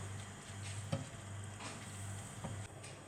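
Liquid simmers gently in a pan while being stirred until it cooks down, a faint continuous sizzle with a few soft scrapes of a utensil, quiet and close.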